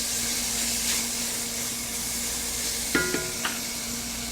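Diced, peeled tomatoes stirred with olives in a pan, giving a soft steady sizzle with a few light scraping clicks from the utensil near the end.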